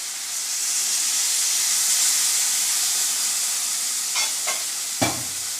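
Tomato chutney simmering in a pan with turmeric and dates added sizzles steadily and loudly, with a few short stirring scrapes near the end.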